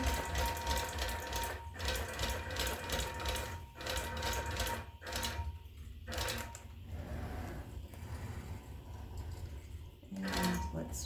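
A longarm quilting machine runs continuously while full-basting a quilt, a steady mechanical whir with a rapid stitching rattle and brief pauses and restarts, close and moderately loud.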